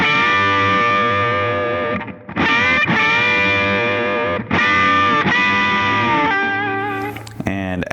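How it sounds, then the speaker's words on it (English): Distorted electric guitar bends repeated three times, each sustained note ending with middle-finger vibrato that wobbles the pitch; loud, close and gritty, the last bend fading into quieter picking at the end. "I'm putting a little vibrato on the end with my middle finger here"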